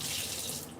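Tap water runs steadily into a kitchen sink while food is rinsed, a close, continuous splashing hiss with no talk over it.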